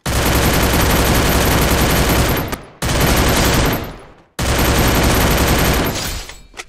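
Gunfire in the video game Garena Free Fire, three loud sustained bursts of rapid automatic fire, each cut off abruptly with short gaps between them.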